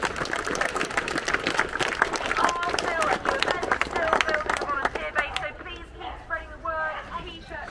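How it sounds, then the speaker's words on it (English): Outdoor crowd at a parkrun in University Parks clapping for the volunteers, a dense patter of hand claps with cheering and chatter mixed in, gradually thinning into scattered claps and voices toward the end. "Can we kick off with a big round of applause for all of our volunteers this morning?"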